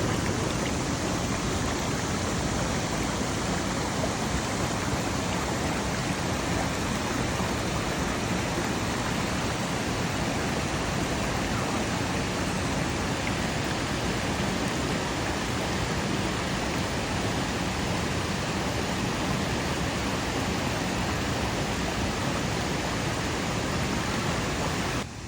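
Waterfall at Tat Champi near Pak Chong, a steady, dense roar of falling water filling the whole scene without a break, close and loud, with no voices.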